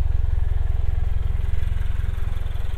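A 2023 Toyota GR86 with the optional TRD aftermarket exhaust rumbles steadily nearby in a deep, pulsing burble at low revs.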